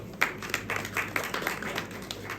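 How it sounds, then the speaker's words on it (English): Audience at a film trailer launch claps briefly, a scattered patter of hands at moderate distance, thin and short-lived. "Please, a round of applause."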